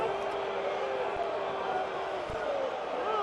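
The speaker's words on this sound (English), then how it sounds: "Crowd not liking that." A baseball stadium crowd at an ALDS playoff game in Oakland voices displeasure over a borderline strike call, a steady, broad wash of booing and murmur under a broadcaster's commentary.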